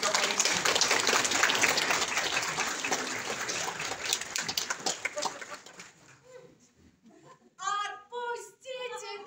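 A theatre audience at the Russian drama theatre in Yakutsk claps loudly and densely for about six seconds. The applause then fades, and a voice begins speaking.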